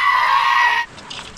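A goat-like bleat rings out loud and sustained for nearly a second at a night camp near the ocean, then cuts off into quieter background noise.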